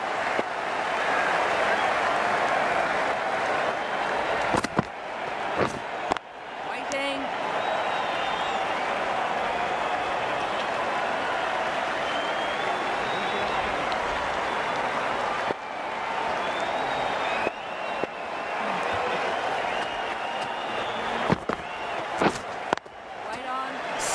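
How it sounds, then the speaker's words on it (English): A crowd in the Cricket 19 video game cheers and applauds in a loud, sustained roar under commentary, broken by a few short gaps and bat or thud sounds. "The crowd on their feet."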